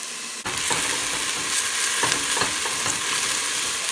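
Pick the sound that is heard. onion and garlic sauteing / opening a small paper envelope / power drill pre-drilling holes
onion and garlic sauteing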